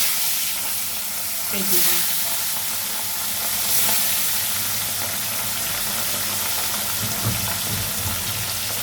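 Katla fish frying in a pan of oil, a steady close sizzle running throughout with a few faint clinks and stirring sounds, no voices.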